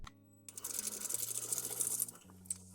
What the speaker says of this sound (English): and now I keep sewing